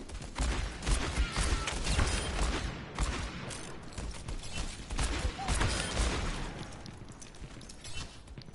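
An Overwatch character's fan the hammer ability unloads rapid revolver shots in dense, crackling bursts with mechanical clatter, repeating loudly over several seconds against a noisy game backdrop.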